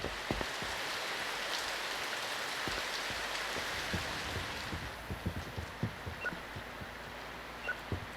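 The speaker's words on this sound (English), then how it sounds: "While it rains." Steady rain falls in a soft, even hiss, with scattered heavier drops tapping irregularly near the end; no voices.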